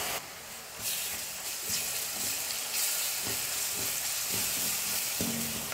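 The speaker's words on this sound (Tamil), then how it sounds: "இஞ்சி பூண்டு விழுது சேர்த்து ஒரு நிமிஷம் நல்லா வதக்குனதுக்கப்புறமா" Ginger garlic paste sautés in a pan for egg drop curry, giving a steady close sizzle and hiss with scattered soft scraping taps of stirring throughout.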